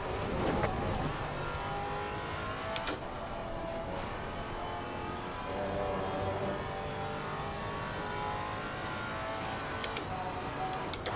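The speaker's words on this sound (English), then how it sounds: "The faster car is approaching." Race cars in Assetto Corsa Competizione at Imola, with a driven Maserati as a faster car approaches. A loud, steady engine drone with shifting revs and pitch runs continuously for over ten seconds, with a few faint clicks.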